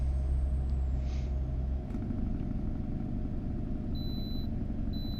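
Inside the cab of a truck in a trucking simulator game's career mode, a muffled, steady low engine drone rumbles throughout, with a few faint high electronic beeps near the end.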